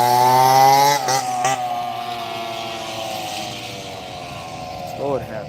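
Young riders on little scooters come through loudly at night, their small engines giving off a buzzing, whining drone that sinks in pitch as they pass, with a second rising whine near the end.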